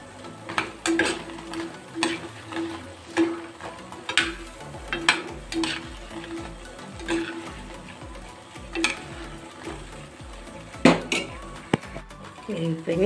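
Nuts frying in oil and being stirred in a pan while making a sweet, with repeated scraping and clinking of a utensil against the pan in an uneven rhythm over a low sizzle, close up.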